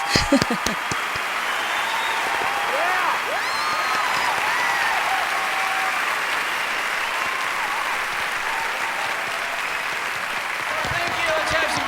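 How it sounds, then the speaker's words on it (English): Loud, sustained applause from an audience for a band at a live musical show, a dense steady clapping that runs throughout, with a few voices in the crowd. "Applause for the band."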